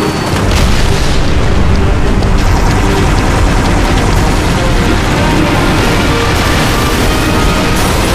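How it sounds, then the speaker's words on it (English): A pylon detonation explodes in the video game Halo Reach: a massive, continuous roaring boom that fills the whole clip at high loudness, dense rumbling debris and crackle sustained for about eight seconds with no voices. "Acquiring signal lock on the pylon. Detonating in 3, 2."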